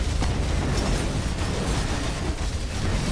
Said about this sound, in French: On se fait bomber, attention, avec les defs.